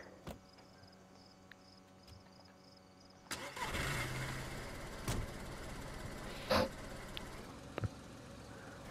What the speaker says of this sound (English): We're driving a car!